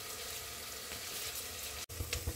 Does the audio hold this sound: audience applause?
no